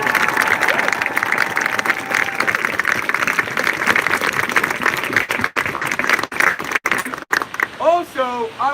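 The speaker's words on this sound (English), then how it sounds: "Can we give a round of applause for them?" Crowd applause and scattered cheers at a Black Lives Matter protest in San Luis Obispo, a sustained outdoor burst of clapping that thins out toward the end, with voices rising over it.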